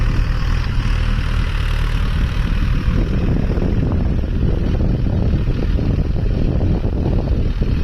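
A 4x4 tractor engine runs at gentle throttle with a continuous, loud, close low rumble and a steady drone that stays even from start to finish.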